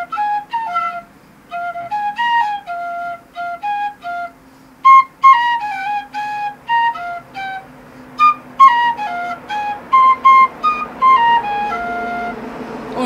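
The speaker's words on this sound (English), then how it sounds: "This is a dollar flute, and it's one of my favorites. It's actually a dollar whistle, and it's one of my favorites." A one-dollar tin whistle plays a lively melody of clear, bright piping notes in short phrases with brief pauses, close and fairly loud with no talking.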